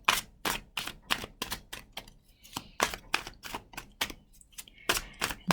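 Tarot cards are shuffled by hand in a steady series of sharp, crisp riffling clacks, close and fairly quiet, with short pauses between bursts and no talking.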